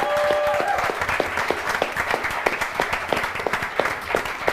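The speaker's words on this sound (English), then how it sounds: "Round of applause for our dear Hexman" An audience claps in sustained applause at a live themed event, a dense steady patter of many hands from start to finish, with a brief voice heard faintly near the beginning.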